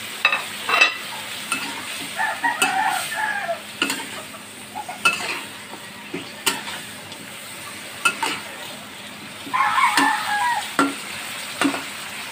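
Chayote and carrot stir-fried in a pan for chop suey: a steady close sizzle with repeated scraping and clinking of a utensil stirring, in irregular bursts, with no talking.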